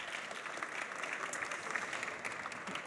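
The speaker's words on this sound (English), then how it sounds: "give a big round of applause to Nitzan" An audience at the eBay OPEN 2025 main stage applauds steadily for Nitzan, a dense continuous wash of clapping at moderate level from start to finish.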